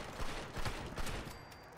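Several rapid bursts of shotgun fire in Fallout 76 ring out in quick succession, loud and close, with a steady electronic hum running underneath.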